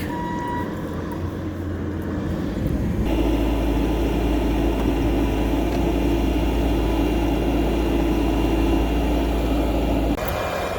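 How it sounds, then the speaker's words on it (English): A Bobcat T650 compact track loader fitted with a soil conditioner power rake runs steadily nearby, a loud continuous diesel drone that shifts up in intensity a few seconds in and holds before easing near the end. "Now it's time for the power rake."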